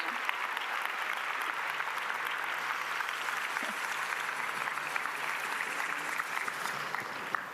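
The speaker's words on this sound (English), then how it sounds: "give yourselves a round of applause for participating in that with me" Steady, sustained applause from an audience, a dense even patter of many hands clapping throughout with no voices standing out.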